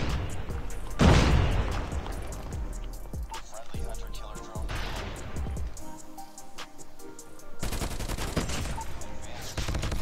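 Rapid automatic gunfire in the mobile shooter game COD Mobile, bursts of sharp shots with booming impacts separated by brief pauses, loud and close, with a player's voice occasionally over it.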